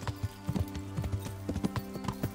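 Horse hooves clip-clopping as a rider travels in the medieval game Kingdom Come Deliverance, a quick, rhythmic run of close hoofbeats over a low droning hum, with no talking.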